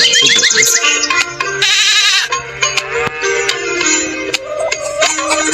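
A goat bleats in a mobile video game, a wavering cry set among bright electronic game chimes, blips and clicks that play loudly and continuously, with no voices.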